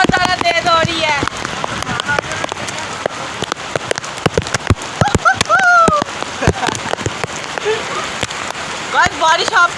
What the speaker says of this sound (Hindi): बारिश बहुत ज़्यादा तेज़ हो रही है